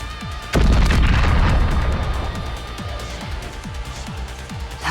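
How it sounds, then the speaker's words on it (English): A single heavy boom from a bomb blast in the game NIKKE hits suddenly and loudly, then rumbles and slowly fades under musical tones. "That wasn't an actual hydrogen bomb, was it?"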